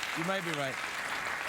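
Studio audience applause on a late-night talk show, steady close clapping that runs under a man's brief spoken words.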